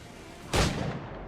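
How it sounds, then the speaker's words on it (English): A single loud gunshot from a pistol in a video game cracks out suddenly and fades over a short tail against a low background hum. "No man's immune to a pistol shot"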